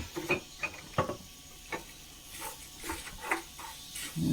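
Grated coconut roasting in coconut oil in a pan, faint sizzling under intermittent scraping and stirring taps of a spoon against the pan, close and fairly quiet.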